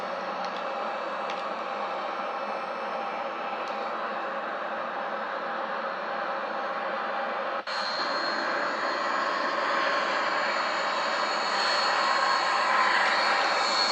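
A Boeing 737-800 in the X-Plane flight simulator holds a steady, even jet engine hum at idle thrust, with a click partway through and a slightly brighter, louder roar afterward; no talking.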